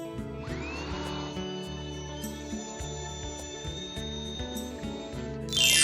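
A power drill whines steadily at close range while drilling a starter hole for a recessed light fixture, its pitch rising as it spins up, then grinding harder near the end as the bit bites through.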